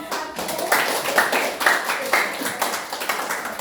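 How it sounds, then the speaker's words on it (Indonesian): Classroom applause for a presenting student group: a short burst of hand clapping in uneven, separate rhythmic bursts, close and moderately loud in a room. "tepuk tangan untuk kelompok 1"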